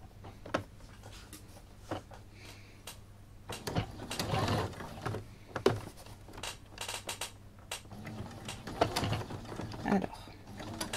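A domestic sewing machine stitching a fabric bow tie near its loop, giving short bursts of rapid mechanical clatter separated by pauses, close and fairly quiet.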